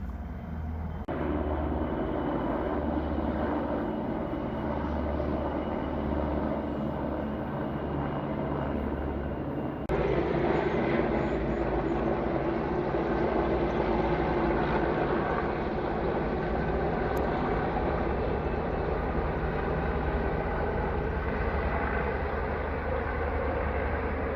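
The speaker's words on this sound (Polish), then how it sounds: "Ostatnio często latają tu samoloty i helikoptery" Aircraft fly near Radom, Poland, during a hot August spell around an airshow, giving a continuous broad engine roar that swells and holds steady for about 24 seconds with no talk.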